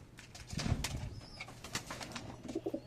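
Young racing pigeons, two to four months old, cooing softly in a loft, low murmuring coos with a little rustling and faint background noise.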